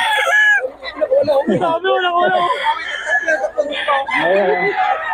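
Chickens and roosters at a market crow and cluck loudly and continuously, close by, with people talking among them.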